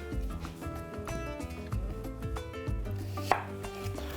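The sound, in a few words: chopping onions finely with a knife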